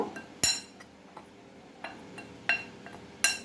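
A spoon or utensil stirs gram flour with salt, turmeric, nigella seeds and chilli powder in a bowl, giving sparse metallic clinks and scrapes against the bowl with quiet pauses between.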